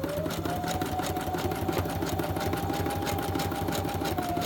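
Sewing machine stitching a small stitch, a steady rapid whirring clatter with a faint high hum running through it, continuous and close throughout.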